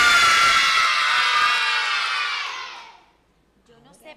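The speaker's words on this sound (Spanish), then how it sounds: "así que a la una, dos y tres gritamos bien fuerte" A crowd of children at a kids' show in Guánica shouts loudly together in one sustained, close roar that lasts about three seconds and then fades out, with a few faint voices after it.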